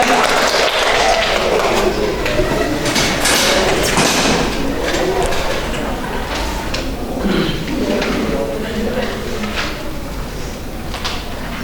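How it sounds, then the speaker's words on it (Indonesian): A classroom group of students gets a round of applause, dense clapping mixed with knocks and thumps that fills the whole stretch and tapers off slightly toward the end. "Tepuk tangan untuk kalian."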